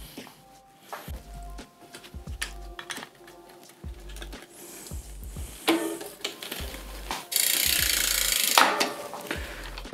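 A tool tightens a part on a bicycle laid flat, with repeated ratcheting clicks and soft metallic knocks in short bursts, ending in a louder rough scraping rush.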